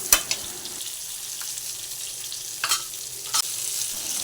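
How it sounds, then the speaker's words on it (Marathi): Semolina-coated prawns shallow-frying in a pan give a steady, close sizzle, broken by a few sharp clicks and scrapes as they are turned. "आणि आता कोळंबीसुद्धा मी अशीच फ्राय करते."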